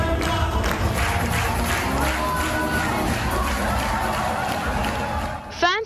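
A large crowd of fans cheers at a Los Angeles screening of the film RRR, with a dense, steady roar of voices, whoops and scattered claps throughout, with music and talk mixed in.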